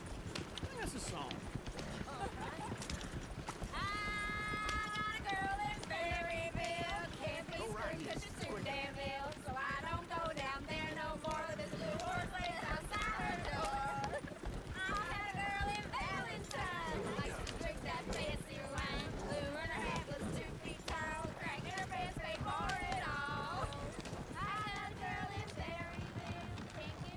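Horse hooves clip-clopping at a steady gallop in the open-world game Red Dead Redemption 2, running continuously under voices singing and talking and game music throughout.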